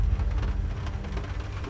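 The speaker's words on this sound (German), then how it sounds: "So sieht das übrigens bei uns aus, wenn es draußen regnet." Steady rain drums on the roof of a camper van, a dense, continuous patter heard from inside, fairly loud and even, with no talking.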